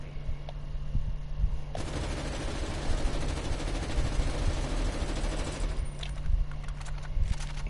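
Gunfire from a weapon in Call of Duty Cold War multiplayer: a long continuous burst of rapid automatic shots, steady and loud up close, over a low hum, with no talking.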